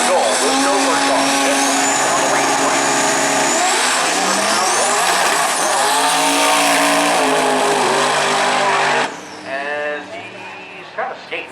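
A Dodge Viper drag car roars down the track at a Maryland International Raceway drag event, a loud sustained engine howl rising in pitch before cutting off abruptly, leaving fainter engine and crowd noise.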